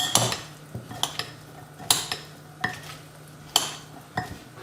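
Ingredients for a baked Greek feta dish are mixed in a bowl with a utensil, close scraping and clinking strokes recurring in an uneven rhythm, no talk.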